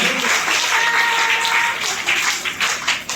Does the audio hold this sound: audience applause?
yes